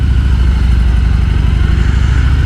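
A 2022 Harley-Davidson Heritage motorcycle engine pulls in second gear at low revs, a steady deep throbbing rumble with a rapid pulsing beat, loud and close throughout with no talking.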